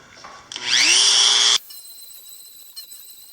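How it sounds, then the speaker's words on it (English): A Dremel rotary tool fitted with a makeshift bit spins up sharply to a high, steady whine for about a second while working on a Honda 300 ATV, then cuts off abruptly, leaving faint handling noises. "what I do got is a Dremel, and I don't have the bit I was looking for, but I got this bit"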